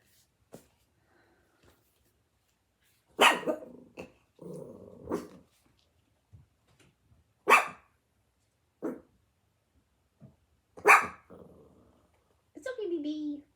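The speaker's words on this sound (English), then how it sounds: "FedEx is still outside, so the dogs are not happy." Several indoor dogs bark and growl at a FedEx delivery driver outside, in sharp separate bursts with a rumbling growl between them, fairly close, separated by quiet stretches, with brief speech now and then.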